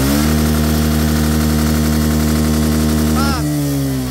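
A Suzuki single-cylinder motorcycle engine with a racing CDI revs hard and steadily in top gear, loud and close, with a dense buzzing drone that drops abruptly near the end as the throttle is released.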